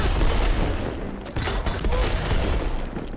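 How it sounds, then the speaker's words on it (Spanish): A weapon firing in the video game Worms W.M.D., heard as a dense burst of blasts and rattling booms running continuously for about three seconds, loud and busy. "Disparo."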